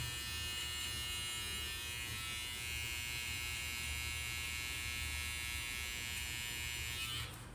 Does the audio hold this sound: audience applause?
no